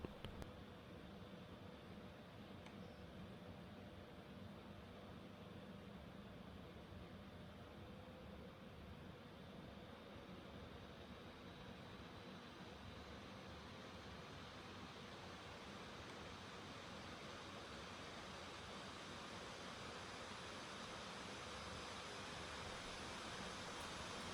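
A Lenovo Ideapad 5 laptop with a Ryzen 5 4500U runs its fan flat out in extreme performance mode, giving a loud, steady broadband whoosh like rushing air that holds even and unbroken throughout, with no talk.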